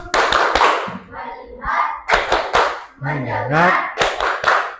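A primary school class performs a rhythmic focus clap routine, sharp group claps in patterned bursts alternating with children chanting together.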